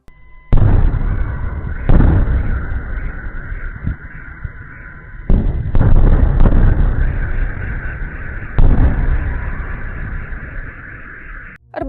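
Several heavy, booming explosions from a night drone and missile attack go off one after another, each a loud sudden blast followed by a long rumbling roar that lingers before the next.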